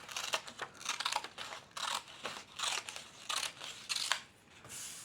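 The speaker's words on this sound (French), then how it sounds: "On va venir le découper, encore une fois, avec les ciseaux cranteurs" Pinking scissors cut through folded paper in a run of quick, crisp snips and crunches, close and fairly quiet, with short pauses between cuts.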